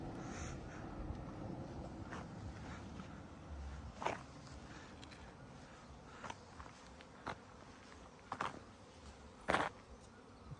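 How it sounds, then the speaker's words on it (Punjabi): Honey bees hum around stacked wooden honey boxes at an outdoor apiary. The buzz is faint and steady, with a few sharp knocks and rustles scattered through it. "ਪੂਰੀਆਂ ਪੂਰੀਆਂ ਮੱਖੀਆਂ ਭਰੀਆਂ ਇਸ ਟਾਈਮ ਇੱਥੇ।"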